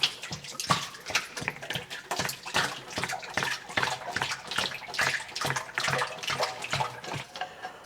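Gear oil is poured straight into the open housing of a Deutz 6006 tractor, making a continuous gurgling, glugging splash with rapid uneven pulses. It is close up and steady, with no talking.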